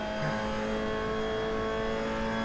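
Race car engine in an Assetto Corsa league race at Silverstone, held at a steady high-revving drone with strong harmonic whine throughout, loud and close, no talk over it.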